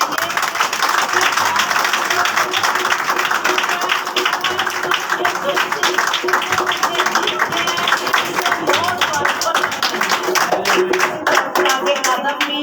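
Church congregation clapping at an Easter Resurrection Day service at IFGF Church, Morgah: dense, sustained applause that fills the room for the whole stretch, with voices mixed in among the claps.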